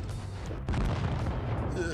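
A tank gun fires an HE shell in World of Tanks Blitz: one sharp, loud boom partway through, followed by a sustained rumbling tail.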